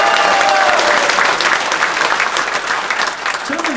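Audience applause at a Korean political rally, a dense steady wash of clapping that starts loud and tapers slightly toward the end, with faint voices mixed in.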